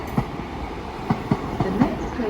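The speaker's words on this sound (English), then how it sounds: "Train now going past is a double three." A passing train at Edge Hill station on the line toward Liverpool Lime Street, heard as a steady rolling rumble broken by periodic clicking wheel beats at rail joints, moderately close, with no talk over it.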